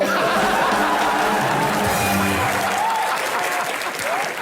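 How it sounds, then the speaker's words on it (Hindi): A studio audience at a Kapil Sharma comedy show breaks into loud, continuous applause mixed with some laughter, full and steady before tapering slightly toward the end. "ठोको ताली"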